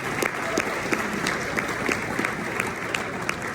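Audience applause at a Ricoh dealer summit opening session in Denver, a steady wash of clapping from a conference crowd with scattered sharper claps, moderately loud throughout.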